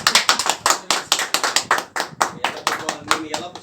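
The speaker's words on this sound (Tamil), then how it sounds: "கைத்தட்டு கைத்தட்டு கைத்தட்டு" A small group of friends claps hands in welcome while a shawl is presented, giving a fast, fairly even run of sharp, close claps that keeps going without a break.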